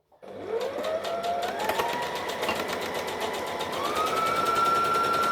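A sewing machine chain stitches fabric for a Halloween costume, starting from silence and ramping up into a loud, steady motor whine with fast rhythmic needle ticking that rises in pitch partway through.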